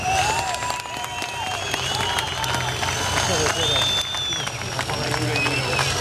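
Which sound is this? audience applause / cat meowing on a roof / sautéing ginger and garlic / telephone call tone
audience applause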